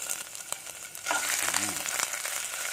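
Homemade pounded curry paste frying in a little vegetable oil in a pan, a steady close sizzle that swells after the paste goes in, with faint stirring scrapes and no talk.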